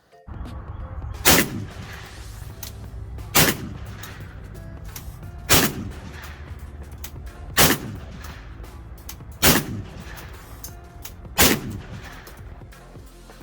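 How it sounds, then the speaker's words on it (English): A Panzer M4 semi-automatic shotgun, a Benelli M4 clone, fires six loud, sharp single shots outdoors, spaced about two seconds apart at an even pace, with no voices. "And then a little shooting footage of how it ran after the upgrades."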